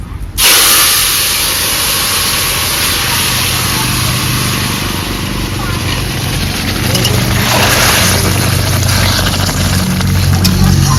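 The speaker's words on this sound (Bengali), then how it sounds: "এবার ঝোল ফোড়নের উপরে ঢেলে দেব" Broth for a dish of water lily stems and puti fish poured onto hot oil tempered with bay leaf and radhuni, bursting into a loud, close, sustained hissing sizzle that continues throughout.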